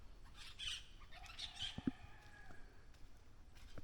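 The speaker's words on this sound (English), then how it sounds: "A whole heap of parrot." Parrots squawking in the Jamaican countryside in the early morning, several sharp raspy calls in short bursts, fairly distant and faint against a quiet outdoor background with no talking.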